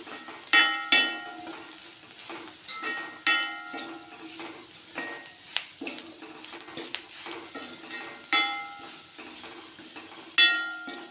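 Black pepper powder and turmeric are roasted in a masala for a pumpkin curry, with a spoon scraping and clinking against the pan in repeated stirring strokes over a soft, steady sizzle, close and without speech.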